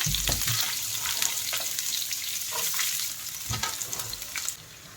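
Chopped onions sauté in hot oil in a pan, a continuous close sizzle with bursts of stirring and spatula scrapes, fading slightly near the end, no voices.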